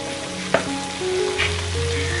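Ground masala paste, a wet spice blend, sizzles steadily in a pan, a constant close frying hiss with a sharp utensil scrape near the start and faint background hums.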